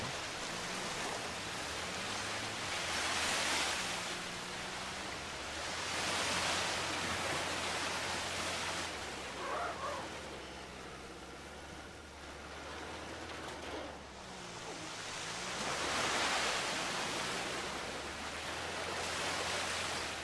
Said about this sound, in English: It's crazy how we just ride it in a waterfall.